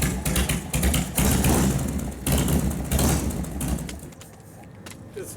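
A 1999 Harley-Davidson FXR2 motorcycle engine idles close by with a steady, loping rumble that swells briefly and then settles, with no talk over it.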